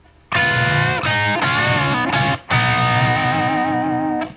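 Distorted electric guitar plays rockabilly-style double stop chords in a solo lick, a few ringing two-note stabs with short gaps, then one long sustained chord with slight vibrato, loud and close with no talking.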